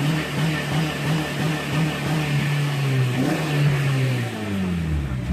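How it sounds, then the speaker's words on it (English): A car's exhaust revs up and down in a loud, close, throaty drone, pitch rising and falling over several seconds with no talking. "Exhaust note for days."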